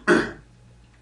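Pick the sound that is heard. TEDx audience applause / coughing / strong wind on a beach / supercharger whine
coughing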